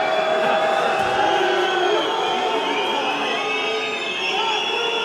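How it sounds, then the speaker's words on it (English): An arena crowd at a PFL bantamweight MMA fight roars steadily, a dense wash of shouts and whoops holding at one level throughout, with no clear single voices on top. "You can hear the crowd wanting something more from this fight"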